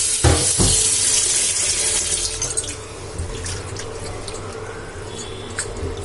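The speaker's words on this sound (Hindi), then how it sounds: "इसको भी थोड़ा अच्छे से मैं धो लूँगी।" Fish is rinsed under a running kitchen tap for frying: a steady, close splashing stream with brief louder gushes at the start, easing slightly as the washing continues, with no talk.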